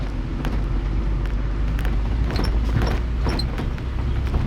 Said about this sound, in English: Hold on, I got this truck next to me.